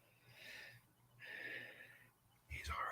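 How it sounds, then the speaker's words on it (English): A man snores softly nearby in slow rhythm: two drawn-out, breathy rasping inhalations separated by quiet pauses, then a louder snort at the end. "He's already snoring."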